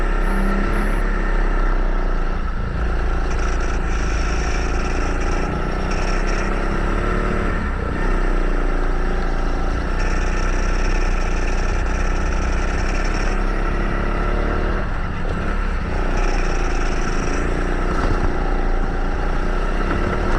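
A racing kart engine drones continuously as the kart laps a track, a loud, close, buzzing two-stroke whine that rises and falls through gear-free acceleration and easing off for bends, with no talk over it.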